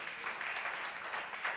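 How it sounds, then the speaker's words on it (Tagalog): A church congregation applauding together, a steady wash of many hands clapping at a moderate distance throughout. "Palakpak para kay Lord."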